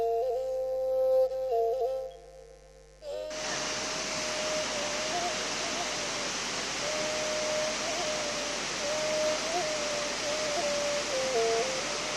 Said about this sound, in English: Khopum waterfall is falling down the water from the hills